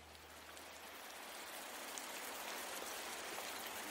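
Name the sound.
rain falling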